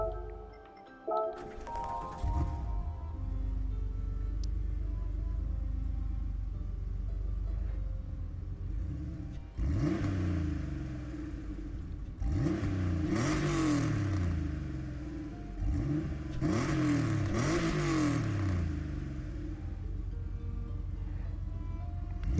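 Gran Turismo 7 video game car fitted with a swapped Porsche engine, rumbling at idle then revving up in several loud sweeping pulls, alone with no talk.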